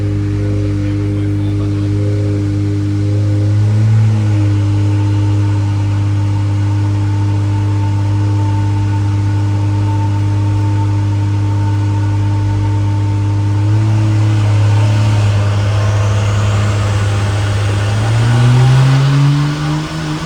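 BMW F30 car engine held at a steady drone on a dyno for a long stretch, with engine pitch shifting briefly around midway and rising as it revs near the end; loud and continuous, no talk.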